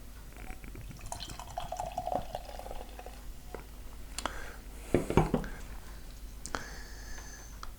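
Creme Ghoulee beer spills and drips in a few small wet splashes and taps against glass and a surface, faint and intermittent, with quiet background noise.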